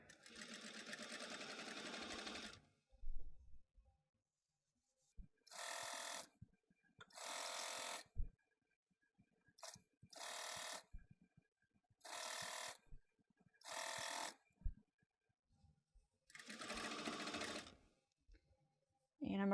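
A sewing machine stitches a T-shirt hem in short, loud bursts of running, about six separate runs with pauses between them, close by and with no talk.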